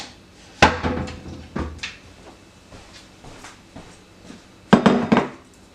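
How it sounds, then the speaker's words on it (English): Kitchen dishes clattering while a bowl is grabbed: a few sharp knocks and clinks of crockery, a cluster near the start and another near the end, with quieter rustling between and no talk. "I'm gonna grab a bowl real quick to put everything in as I chop it."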